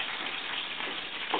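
Food frying in hot vegetable oil, a close, steady hissing sizzle with bright crackle that stays constant and loud throughout, no voices over it.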